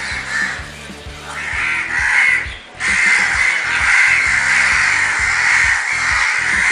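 Crows caw harshly and repeatedly, near and loud, over a dense rough background with a short break partway through.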